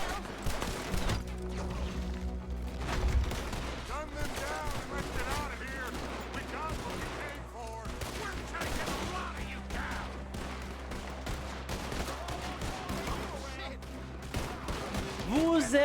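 Gunshots ring out in a Red Dead Redemption II shootout, with scattered bursts of fire across the scene under game ambience while voices talk over the action.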